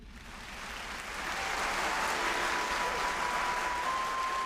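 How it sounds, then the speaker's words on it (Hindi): Applause welcoming souls in an anime scene, a swelling wash of many hands clapping that grows louder after the first second and then holds steady, with a faint sustained tone beneath. "कुछ ऐसे भी हैं इनमें जिनका स्वागत तालियों से होता है।"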